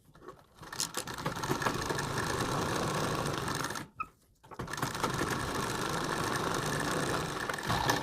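A sewing machine stitches along a coat collar, running in two long steady whirring bursts with a short pause between them, close and continuous.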